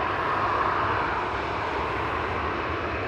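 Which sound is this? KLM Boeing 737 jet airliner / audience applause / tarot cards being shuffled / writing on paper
KLM Boeing 737 jet airliner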